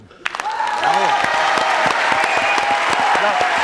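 A French television studio audience bursts into sustained, loud applause with scattered cheers, steady clapping filling the room after a brief lead-in.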